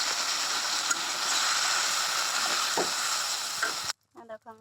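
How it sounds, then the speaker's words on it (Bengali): Water poured into a hot pan of fish curry sets off a loud, steady sizzle and hiss lasting several seconds. It cuts off abruptly, and a voice then speaks over a quieter room. "এবারে আমি জল দিয়ে দেবো।"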